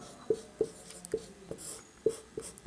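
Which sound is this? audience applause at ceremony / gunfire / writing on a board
writing on a board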